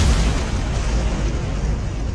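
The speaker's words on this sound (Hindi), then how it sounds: "नागराज, ये बम विस्फोट बारूदी सुरंग का था" Landmine bomb blast destroying a road convoy, staged as an audio drama effect: a loud, sustained broadband roar with heavy low-end rumble that stays dense and even for about two seconds, with no voices.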